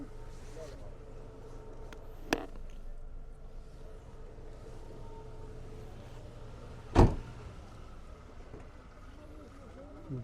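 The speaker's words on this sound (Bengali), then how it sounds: "গাড়িটা আপনাদের এই সাউন্ডটা স্মুথ সাউন্ড রানিং গাড়ি" A 2013 Toyota Corolla engine runs in an even, low hum, steady and smooth throughout, with two sharp clicks or thumps breaking in over it.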